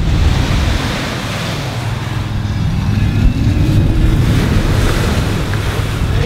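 Big ocean waves and strong wind roar steadily across the deck of a cargo ship crossing the Pacific, loud and continuous with a deep rumble underneath.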